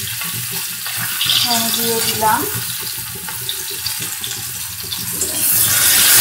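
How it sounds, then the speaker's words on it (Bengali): Chopped onion fries over a medium flame in a pan, giving a loud, steady hissing sizzle. A short spoken phrase sits over it, and the sizzle grows brighter toward the end. "পেঁয়াজটা একটু সোনালি করে ভাজা হবে।"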